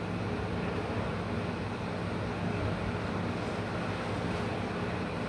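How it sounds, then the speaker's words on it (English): Strong wind blows outdoors in a constant roaring rush, buffeting the microphone evenly for the full five seconds with no pauses and no talking. "that wind is blowing"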